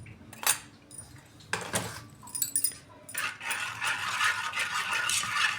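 A spoon stirs powdered sugar into homemade cake batter made with Dairy Milk chocolate, giving a few sharp clinks against the bowl before settling into steady, close scraping and rasping with no voices.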